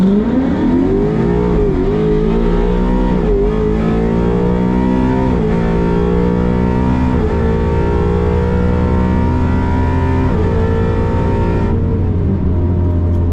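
A Ford Mustang GT with a 10-speed automatic and magnetic ride suspension launches down a drag strip, heard from a side window. The loud engine roar climbs steadily in pitch, broken by several quick upshifts, with no talking.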